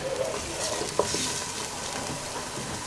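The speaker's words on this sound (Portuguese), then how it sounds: "mexendo sempre." Potatoes fry in a pan with oregano, white pepper and cumin while being stirred, giving a steady close sizzle and a faint scraping stir, with one small clink about a second in.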